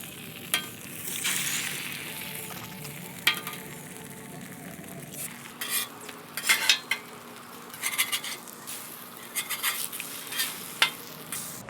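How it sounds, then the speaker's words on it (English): Bread toasting in oil on a rust-cleaned Blackstone flat-top griddle, a steady close sizzle with scattered scraping and clinking of a metal spatula against the cooktop, no talking. "Toast this bread."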